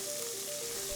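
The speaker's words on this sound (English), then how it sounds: "Saute scallions in left oil until fragrant." Scallions sauté in hot oil with a steady, close crackling sizzle.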